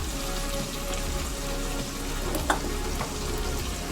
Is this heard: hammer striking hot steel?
no